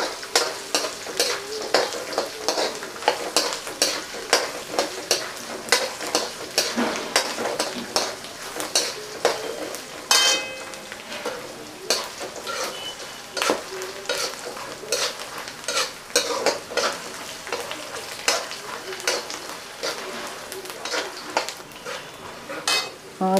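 Whole garlic sautéing in hot oil in a pan for Kolhapuri bhadang, a continuous bright sizzle broken by rapid, rhythmic stirring scrapes and clinks of a spoon against the pan, close and steady throughout.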